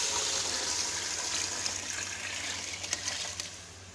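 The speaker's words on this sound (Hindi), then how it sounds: "तो अभी हम इसके अंदर पानी ऐड कर रहे हैं" Water poured into a pot of fried chicken for pulao, about half a litre, making a steady soft rushing gush that fades slightly toward the end, quiet and alone.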